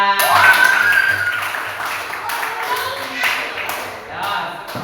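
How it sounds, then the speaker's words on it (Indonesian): Students in a classroom clap their hands together in a dense, fairly loud burst that eases off over a few seconds, with children's voices chattering over it. "tepuk tangan"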